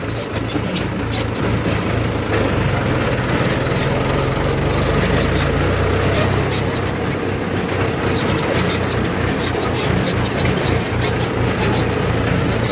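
A tractor engine idles at slow rpm, a dense steady chugging rumble with rattling, clattering mechanical noise, close and continuous without speech.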